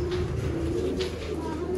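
Rampuri pigeons coo inside a cage, a close, steady low throaty cooing that runs continuously with a few soft flutters and no talk over it.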